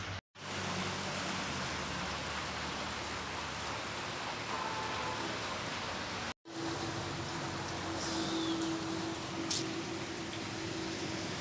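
Steady rain pours down outdoors in a dense, even hiss that fills the scene, broken by two brief dropouts, with a faint tonal hum joining partway through.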